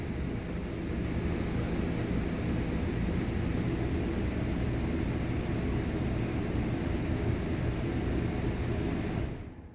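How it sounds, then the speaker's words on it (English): A steady broadband roar of a 2022 Jayco Pinnacle RV's air conditioner runs continuously, loud and close, then cuts off abruptly at the very end. "the noise you just heard was one of the air conditioners I did have set to auto"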